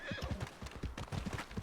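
Rapid hoofbeats from a horse trotting in close, with a short whinny in a video game, loud and busy over a brief span.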